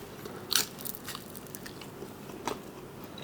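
Close crunchy bites into a crispy bacon, jalapeno and cheddar pizza: a few sharp crackling crunches over soft chewing noise, with no talking.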